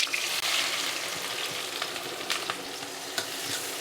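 Onion frying in a pan as the base for a chicken and suran (elephant foot yam) curry makes a dense, continuous sizzle close by, with occasional soft stirring scrapes and no talking.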